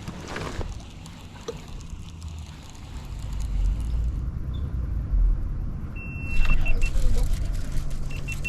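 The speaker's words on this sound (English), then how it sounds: "Probably scaring them all with the motor." A boat motor runs on the water from fairly close. It gives a steady low drone that grows louder toward the end, with wind and some faint background noise.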